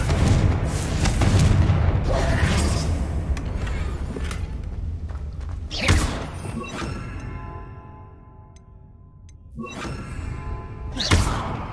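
Fiery Confringo spell blasts in Hogwarts Legacy, a string of heavy booming explosions with thudding impacts and crackling debris, loud and close, with sharp bursts near six and eleven seconds and quieter rumbling between.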